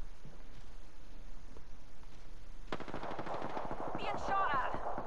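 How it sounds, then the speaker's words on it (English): Rapid machine-gun bursts erupt in a video game firefight after a quieter opening, loud and close, with voices mixed in near the end. "Being shot at."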